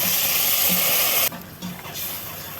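Onions fry in hot oil for a chicken gizzard and liver dish, a bright close sizzle that drops sharply quieter halfway through as spices go in, leaving a softer hiss.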